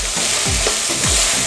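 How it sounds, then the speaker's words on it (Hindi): Mixed vegetables fry in hot oil with a steady sizzle, while a utensil stirs through the pan in several sweeping scrapes, close and fairly loud. "सब्जी को ऑयल में पका लिया"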